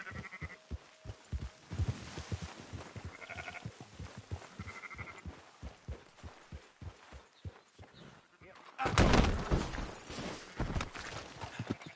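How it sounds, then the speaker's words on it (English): Sheep in Red Dead Redemption 2 bleat repeatedly, several short nasal calls spread across the scene over soft rhythmic thumps, followed near the end by a louder burst of rustling noise. "Fine sheep."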